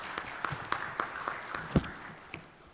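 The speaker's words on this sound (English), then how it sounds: "Why don't you welcome him with a big applause?" Scattered, faint claps from a small audience welcome a panelist at a global media forum, sounding as a handful of separate hand strikes in a large room.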